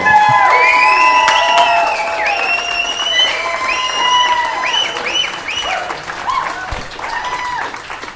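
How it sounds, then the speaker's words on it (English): Comedy club audience gives a big, warm round of applause and cheers as comedian Sean Peterson is welcomed to the stage. Dense clapping with whoops and shouts runs loud and continuous throughout. "Please welcome to the stage, big, warm round of applause, Sean Peterson, everybody"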